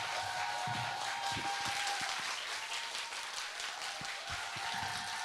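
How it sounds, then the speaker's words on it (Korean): An audience bursts into sustained, dense applause at the opening ceremony of the 2022 Seoul International Writers' Festival, a steady wash of many hands clapping at an even level throughout. "여러분 다시 한번 큰 박수 부탁드립니다"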